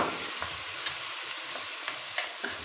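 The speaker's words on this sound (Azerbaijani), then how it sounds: "Üzərinə pomidorumuzu əlavə edirik." Tomatoes tossed into a pan of browned meat for a sauced pasta dish, giving a steady close sizzle of frying with light stirring scrapes and soft clicks throughout, no voices.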